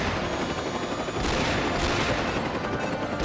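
Homing missiles fire in The 3rd Birthday video game as a dense, loud burst of rapid blasts, with two sharper surges over continuous combat noise.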